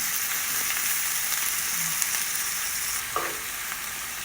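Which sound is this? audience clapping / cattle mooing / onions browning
onions browning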